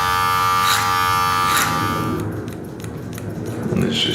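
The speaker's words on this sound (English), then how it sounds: "I like to use a clipper over comb to like debulk" An electric hair clipper buzzes steadily during a barbershop haircut, worked clipper-over-comb to debulk and blend, a close continuous hum that shifts in tone midway as the cut continues, with no talk over it.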